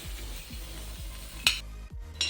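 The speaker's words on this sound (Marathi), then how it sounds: "खोबऱ्यावर असं थोडंसं तेल टाकून आपल्याला छान भाजून घ्यायचं आहे" Grated dry coconut roasts with a little oil on an iron tava as a spatula scrapes it in rhythmic strokes about twice a second, with a faint sizzle and a sharp metallic clank near the end.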